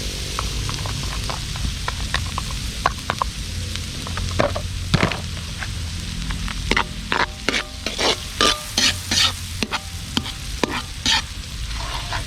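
Chicken wings frying in butter with garlic outdoors, a continuous hiss of sizzling broken by many sharp scraping stir strokes that grow busier toward the end, close and clear with no voices.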